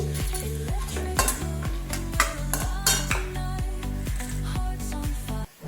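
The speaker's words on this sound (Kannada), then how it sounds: "ಕಡಲೆಬೇಳೆ ಹಾಕೋತಾ ಇದ್ದೀನಿ" Chana dal tipped into hot oil gives a steady sizzle, with light metallic clinks and scrapes as it is stirred, all under loud rhythmic background music.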